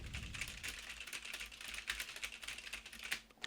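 Close, steady typing on a computer keyboard, rapid irregular key clicks and taps running continuously, alone with no voices.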